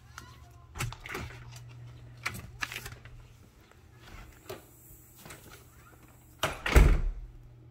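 A glass storm door on a brick-front house opens and closes, a few soft knocks and rattles followed by a louder latching clunk near the end, close by over a low steady hum.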